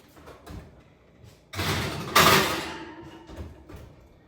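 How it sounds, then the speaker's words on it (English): An oven door in a home kitchen opens and swings shut during gluten-free dinner prep: one close, solid burst of creak and clunk that fades away, with no talking. "So I'm going to put this in the oven."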